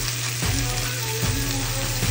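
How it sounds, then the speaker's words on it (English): Steady frying sizzle of short ribs with potatoes, onions and peppers in a hot pan, broad and constant, with a couple of soft clunks of the pan or utensil; no talking. "Let it sizzle, simmer."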